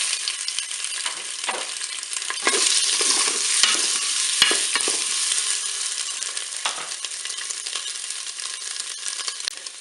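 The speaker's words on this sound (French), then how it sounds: "je vais pouvoir faire revenir mes boulettes de bœuf" Beef meatballs sizzle and brown in hot oil inside a Cookeo multicooker pot, with a steady frying hiss broken by occasional scrapes and clinks from stirring, close and continuous, with no voices.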